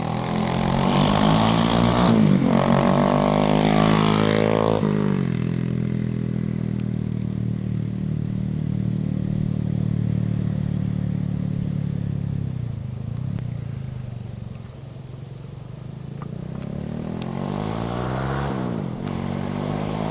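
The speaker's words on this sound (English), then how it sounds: "Thing sounds good. Got the aftermarket exhaust, and we have the original exhaust, but he has the baffle out of the aftermarket exhaust right now." Honda Grom motorcycle with an aftermarket exhaust, baffle removed, runs loud and close for the whole stretch, revving up and down with rising and falling tones over a steady, raspy idle.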